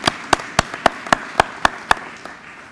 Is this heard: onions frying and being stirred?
no